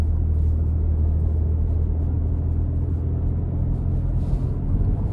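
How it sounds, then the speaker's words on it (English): A 2026 Nissan Armada NISMO with the NISMO exhaust, giving a steady low rumble heard from inside the cabin while driving, constant and fairly loud with no talking. "the sound, the NISMO exhaust systems are just bar none when it comes to that tuner"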